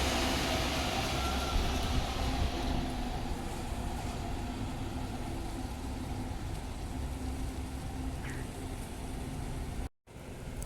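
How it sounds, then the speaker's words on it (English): A 939 express service train runs past a station on the Mandurah line with a loud, steady rumble and roar of wheels on rail that fades slightly as it goes, ending with a brief cutout. "we got a 939 express service driving past now"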